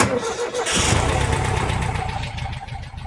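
A 1968 Volkswagen Type 3 engine with original fuel injection cranks briefly and catches, settling into a steady, close idle rumble.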